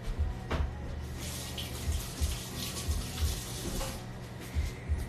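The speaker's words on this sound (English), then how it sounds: "All right, I'm gonna wash my hands." A tap runs for hand washing, a steady splash of water with bursts as hands move under the stream, close and fairly loud with no talking.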